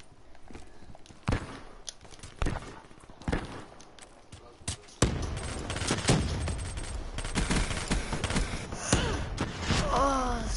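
Gunfire with heavy recoil in a video game: scattered single shots early on, then a sustained, loud run of rapid fire with a voice exclaiming over the top near the end.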